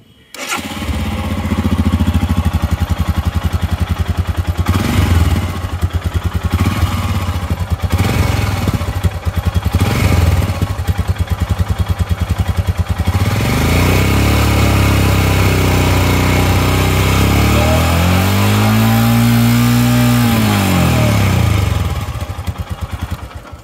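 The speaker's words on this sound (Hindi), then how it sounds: "I'll just turn on the motorcycle and see how it sounds" A Royal Enfield Himalayan BS6 motorcycle engine cranks and catches, then settles into a steady, loud idle with a low throbbing exhaust, briefly revving near the end.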